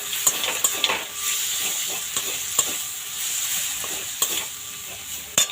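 Chopped tomato sizzles in a cooked-down spice paste in a pan, a steady frying hiss broken by sharp clinks and scrapes of a spoon stirring against the metal, close and clear.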